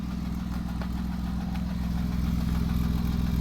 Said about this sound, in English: the car has been running for about half an hour now